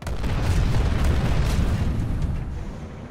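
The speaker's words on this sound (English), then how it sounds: "Let's test out the gun." Vehicle-mounted gun firing in Planetside 2, a continuous loud barrage of heavy booming shots run together for about three seconds, with no talking.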